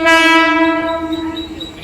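A train horn blasts loud and close in one sustained tonal note near Khopoli, fading slightly as it holds for about two seconds with no talking.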